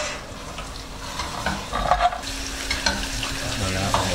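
Rice stirred and frying in a pan while cooking for risotto alla milanese, a steady close sizzle with scraping stirs and a few clinks, no talk.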